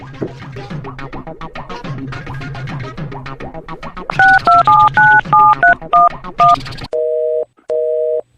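A quick run of beeping keypad tones as a number is dialed, then two long steady tones, following a stretch of mixed background chatter.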